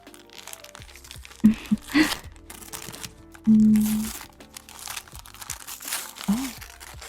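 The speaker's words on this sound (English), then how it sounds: "You wanna unwrap it, baby?" Gift wrapping paper being torn off and crinkled while a Christmas present is opened, close crackling and rustling in irregular bursts, with quiet background sound.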